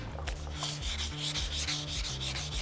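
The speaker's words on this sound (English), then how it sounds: "I'm gonna wet sand it with some 500." Wet sanding cured body filler putty on a Ford F-150 Raptor fender flare with 500-grit sandpaper: rapid rhythmic back-and-forth scrubbing strokes, close and fairly quiet, repeating evenly with no talk.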